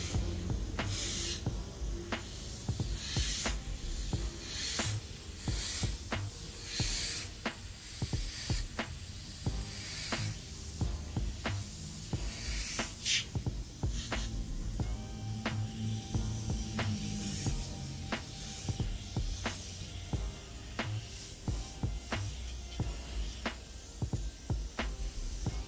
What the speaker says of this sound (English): it's actually spraying paint quite well